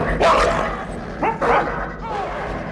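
Dog barking in the horror video game Until Dawn, a few short yips and barks close by with game ambience underneath.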